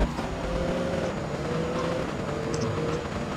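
A car revving and accelerating away in the GTA Vice City video game, its engine droning steadily at close range with a few brief clunks and effects over it.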